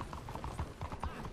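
Horse hooves clip-clopping in the video game Red Dead Redemption, a quick run of rhythmic thuds at a steady gallop pace, fairly faint and brief.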